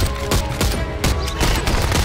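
Gunfire in the police video game Contraband Police, a dense, continuous barrage of shots with sharp bursts throughout, loud and close, with no talk over it.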